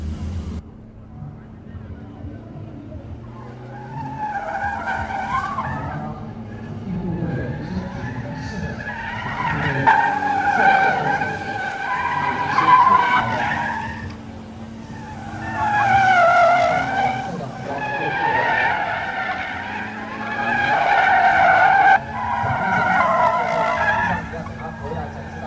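Gymkhana race cars, including a silver one, skid and squeal through a timed course, with tire screeches rising and falling in repeated bursts beneath steady talk from a narrator.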